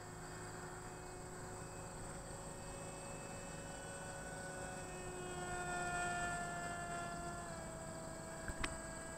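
A model FA-18 jet flying at half throttle gives a steady, distant whine with tonal harmonics that swells slightly midway, alone with no voices.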